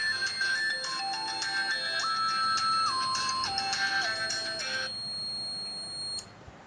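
A homemade Arduino Uno fire detector's buzzer plays a stepped electronic ringtone melody of steady beeping tones for about five seconds, then cuts off, leaving faint room noise and a brief click.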